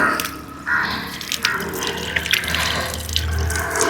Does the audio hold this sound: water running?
yes